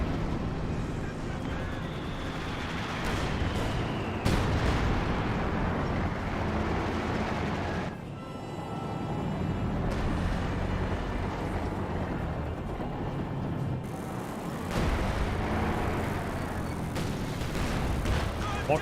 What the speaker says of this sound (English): Here comes a strafe run.